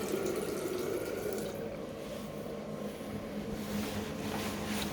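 Bathroom sink tap running during a rental property inventory check, a steady close rush of water pouring into the basin with no voices.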